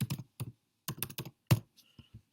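A computer mouse clicks several times in close, crisp taps, single and in quick pairs, while a fence boundary is traced on a mapping program, in a quiet room.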